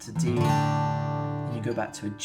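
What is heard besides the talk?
No distinct noise like a dog, phone or traffic.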